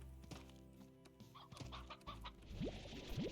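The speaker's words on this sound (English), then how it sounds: "I will raise some more chickens for us" Chickens in the Slime Rancher video game cluck in short repeated bursts over a steady synthetic game background, with a couple of quick rising chirps near the end.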